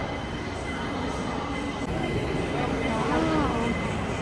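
A train pulling into the Hong Kong airport station, a steady low rumble of rail noise with a rising whine as it arrives, heard amid station ambience and voices nearby.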